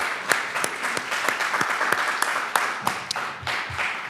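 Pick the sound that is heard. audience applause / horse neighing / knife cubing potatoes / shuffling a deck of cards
audience applause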